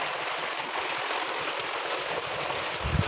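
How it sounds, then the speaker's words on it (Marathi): Steady rainfall hisses evenly on surfaces nearby, a dense continuous patter with a faint low thud at the end. "पावसाचा आवाज येत असेल तुम्हाला भरपूर पाऊस पडला त्या दिवशी"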